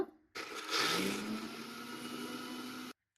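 Mixer grinder grinding green chilies, garlic, cumin and salt for masala akki rotti: a loud whirring motor that starts abruptly, rises in pitch as it spins up, runs steadily for under three seconds, then cuts off.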